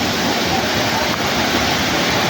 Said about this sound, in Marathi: बघू शकता कसला वॉटरफॉल आहे ना, खतरनाक वॉटरफॉल आमच्या इकडचा